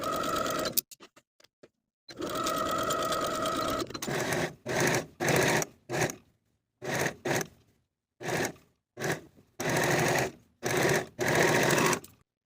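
A sewing machine stitches the curved crotch seam of culotte pants, running in a long steady burst and then in a series of short, evenly spaced bursts with brief pauses between, loud and close with no talk.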